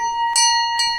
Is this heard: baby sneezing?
no